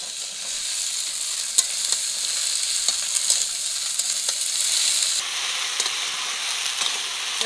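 Vegetables sizzle loudly in a hot pan holding a fried fish head and chopped onion, a steady bright frying hiss with small crackles and stirring scrapes throughout and no talking.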